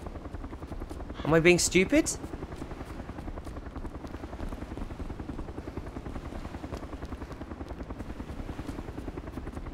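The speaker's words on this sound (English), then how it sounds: "if that helicopter was coming this way, though, I guess they'd already be here" A helicopter in DayZ drones steadily throughout with a rapid, continuous rotor chop, moderately loud and constant. A voice speaks briefly over it early on.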